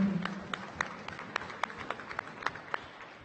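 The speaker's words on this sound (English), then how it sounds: "if we get a round of applause, everybody." Sparse clapping from a small crowd at a rugby match, individual claps landing in a loose rhythm, fairly faint and distant over background murmur.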